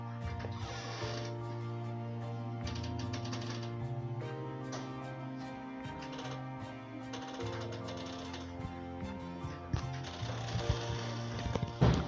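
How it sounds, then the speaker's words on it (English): A sewing machine stitches a placket and pocket in quick mechanical bursts, a rapid ticking needle rhythm that starts and stops between pauses, close and fairly quiet with no talk. "let's get to the sewing machine"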